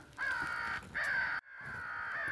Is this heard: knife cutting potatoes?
no